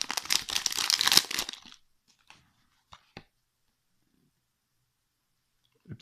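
A Pokémon XY10 booster pack wrapper is crinkled and torn open up close for about a second and a half, followed by a few faint isolated clicks and handling noises.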